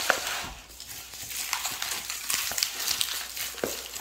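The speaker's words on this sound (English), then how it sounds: "Let's mix this up and make some tolo beef." Beef for tolo beef being stirred and mixed in a pan, soft sizzling under irregular scraping and clinking of utensils against cookware.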